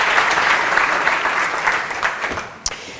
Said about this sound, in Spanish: Le damos un aplauso a Carmen.